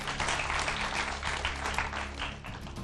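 Audience applause at a televised ASAN volunteers' quiz competition round, a dense, steady wash of clapping throughout with a low hum beneath.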